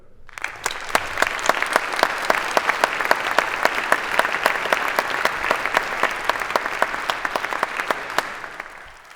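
A lecture-hall audience claps in sustained, dense applause to welcome physicist-investor Yuri Milner at a medical conference, steady and fairly loud for about nine seconds before tapering slightly at the end.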